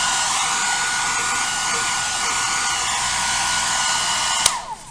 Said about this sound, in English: I have a hair dryer that I bought at Goodwill.